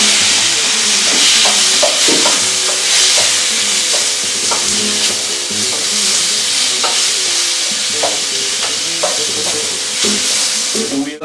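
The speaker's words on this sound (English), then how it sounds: "we are going to finish the sofrito with the tomato." Tomato frying into an onion sofrito for paella gives a loud, constant close sizzle and hiss, with scattered clinks and scrapes of a utensil stirring the pan throughout.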